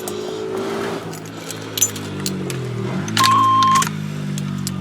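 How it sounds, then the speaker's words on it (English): Keys jangle beside a 1989 Chevrolet K5 Blazer truck after a steering column swap, with brief metallic rattles over a low idle-like hum and a steady electronic chime tone near the end. "Keys for the truck."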